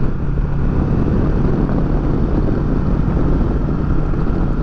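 A Kawasaki Versys 650 ABS motorcycle cruises along a road, a steady loud rumble of engine and rushing wind noise that holds level throughout, with no voice over it.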